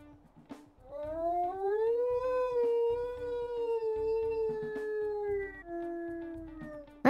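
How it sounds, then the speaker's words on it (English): A wolf in the WolfQuest video game lets out one long, clear, tonal howl that rises and holds, then shifts to a lower held note, with soft background ambience and a brief sharp sound at the very end. "He's got a much higher pitched primary howl than for secondary."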